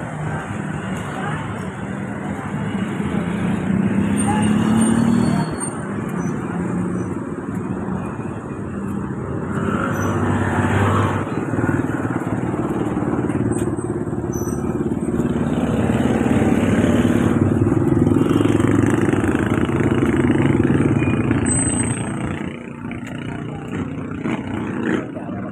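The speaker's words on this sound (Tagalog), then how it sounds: "Dito, sasakay kami ng tricycle." A motorized tricycle, a motorcycle with a sidecar, rumbles steadily along the road during a ride, its engine droning close with traffic noise around and voices speaking over it.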